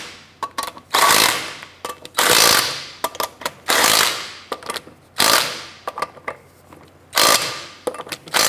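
An impact wrench snugs down lug nuts on a 2006-2013 Chevrolet Impala wheel, firing in several loud, rattling bursts of about a second each, separated by short clicks and handling noises, with no talking.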